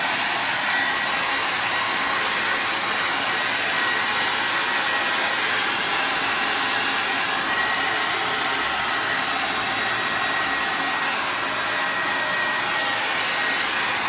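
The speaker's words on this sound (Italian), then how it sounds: "asciughiamo un po' piano piano col phon" A hair dryer blows continuously at close range, a steady airy whoosh with a faint whine that holds unchanged for the whole stretch.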